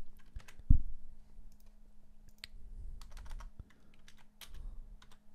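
Typing on a computer keyboard, quiet close keystrokes in irregular bursts with a single louder thump near the start, no voices.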